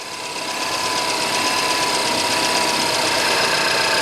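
A freshly rebuilt Mini Cooper S engine idles steadily and close by, a continuous mechanical hum with faint knocking texture and a slightly uneven, unsettled quality, with no voices over it.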